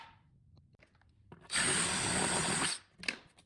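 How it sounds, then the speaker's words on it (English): A power drill bores a hole into a snow thrower during a hardware mod, a loud steady whirring burst lasting about a second and a half, then a brief second spurt, with no talk. "Drill my hole, install the hardware."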